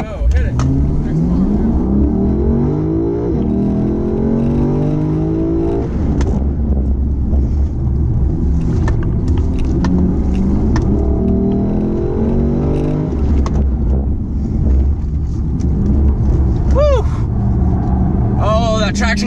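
A Lexus car accelerates hard for a drift, its engine revving loud and close in rising, falling sweeps over a steady deep rumble, with tire noise near the end and voices talking throughout.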